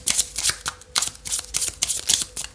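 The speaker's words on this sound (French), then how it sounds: "Et on va passer au tirage sentimental avec Edith Oracle" Oracle cards shuffled by hand for a love reading, a quick run of crisp riffling bursts in steady rhythm, close and loud, with no talking.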